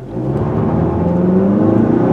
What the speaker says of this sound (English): Did I hear some rubber chirping?